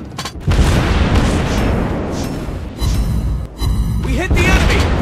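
Heavy naval shell fire and hits in World of Warships Blitz on a Tier 9 U.K. destroyer, Jutland, a series of loud booming blasts with short gaps, mixed with voiced in-game callouts.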